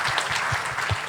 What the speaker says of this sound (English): the two speakers need another round of applause for their insightful discussion